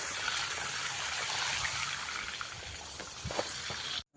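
Water running along an irrigation channel in a farm field, a steady broadband rush and trickle close by with occasional splashes, continuous and alone until it cuts off near the end.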